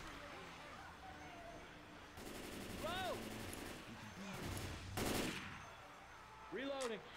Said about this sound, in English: be ready to just keep on firing